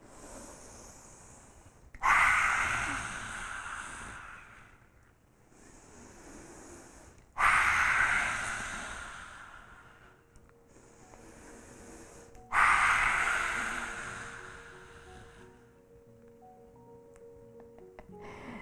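Three forceful, roaring lion's-breath exhales with the tongue out during a yoga session, each a loud burst that fades away, spaced about five seconds apart, close and alone.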